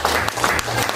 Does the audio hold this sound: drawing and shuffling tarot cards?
no